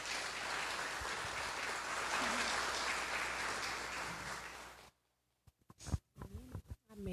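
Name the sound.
applause in church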